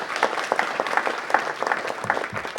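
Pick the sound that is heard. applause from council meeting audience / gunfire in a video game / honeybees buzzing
applause from council meeting audience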